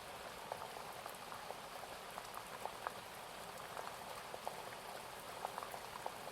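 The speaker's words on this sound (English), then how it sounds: "you begin to head towards that sound of flowing water" Woodland stream flowing, a steady broadband rush of water with small bubbling splashes scattered throughout, even and moderately loud, with no talking.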